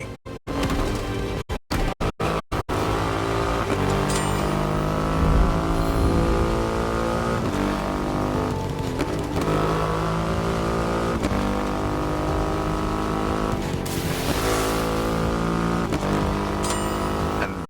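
A Triumph Rocket 3 motorcycle with a 2.5-litre engine roars in The Crew Motorfest racing game, a loud sustained engine note rising and falling through revs and gear changes, with a few abrupt cuts at the start.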